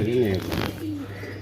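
Pigeons at a pigeon farm give a short cooing call close by, followed by a fainter second coo over a steady low hum, with a voice briefly talking.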